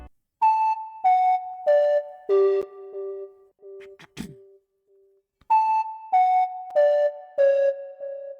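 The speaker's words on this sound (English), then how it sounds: "It's a pen flute." Synthesized pan flute from the Purity plugin in FL Studio plays two short descending melodic phrases with reverb tails, separated by a brief percussive hit and a pause, clean and up front for an Afrobeat track.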